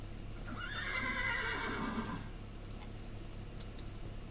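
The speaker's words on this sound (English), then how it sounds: "I thought I heard, like, you know, something behind me there, but it's a horse upstairs" A horse in the video game Minecraft whinnies once in a clear, falling neigh lasting over a second, with faint hoof sounds beneath a steady ambient hum, heard slightly distant as if from upstairs.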